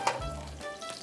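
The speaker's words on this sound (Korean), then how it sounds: "소세지 너무 불이 세면 겉에만 타니까 불을 약간 줄여버려." Sausages sizzle and spit steadily in hot oil in a pan on a high-heat stove, a close, continuous frying crackle with a brief stir or clatter near the start.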